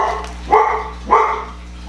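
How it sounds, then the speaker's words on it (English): A household dog barks twice in the background, about half a second apart, each bark sharp and moderately loud over a low steady hum, with no talking. "that's our dog barking in the background"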